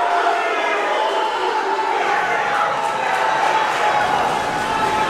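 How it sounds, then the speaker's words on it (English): A bloodthirsty wrestling crowd at Houston Arena keeps up a dense, continuous roar of applause and cheering, loud and enveloping for the whole stretch, without a break. "This bloodthirsty crowd here at Houston Arena applauding Buzz Samuels."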